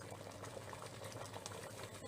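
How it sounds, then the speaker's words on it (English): Liquid boiling in a home-brewing pot, a steady dense bubbling and hissing that runs unbroken and fairly near. "It's boiling."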